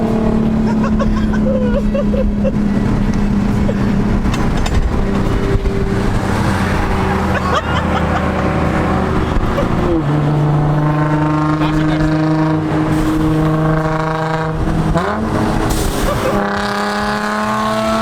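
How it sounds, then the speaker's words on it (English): A car's loud exhaust drones while driving, its pitch rising and falling as the engine revs up and eases off through gear changes, close and continuous with some talk mixed in. "Alright everybody, Alec is behind us. I'm gonna get his reaction to hearing Jan's exhaust for the first time."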